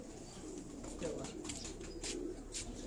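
Pigeons kept on a Karachi rooftop give low, throaty cooing in repeated rolling phrases, close and fairly soft, with no talk over them.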